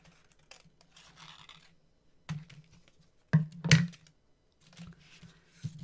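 Scissors cut a paper speech bubble along its lines, making a few quiet, close snips and crisp paper crackles spaced unevenly, with faint rustling between cuts.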